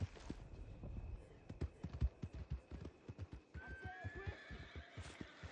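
A horse whinnies near the end over a steady clip-clop of hooves walking, fairly faint, in Red Dead Redemption 2.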